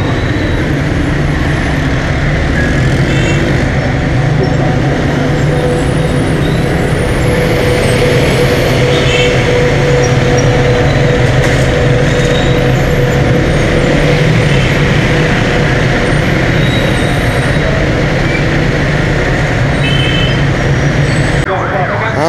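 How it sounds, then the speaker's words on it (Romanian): Dense city street traffic heard from a high vantage point, a loud continuous rumble of cars, buses and engines blending into a steady roar with no pauses. "De aici de sus o să vedeți cum arată traficul."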